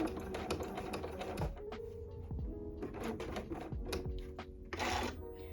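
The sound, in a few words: sewing machine stitching fabric for a skirt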